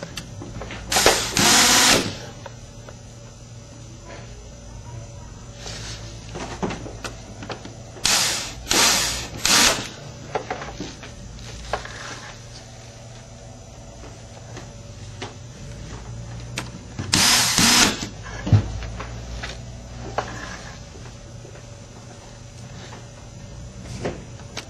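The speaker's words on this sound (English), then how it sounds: "Put the control board back in, align with the screw mounts, and secure the board" Original screws are driven in to secure the control board of a VIZIO P42HDTV10A plasma TV, heard as a few separate short whirring and clicking bursts spaced across a quiet workbench background.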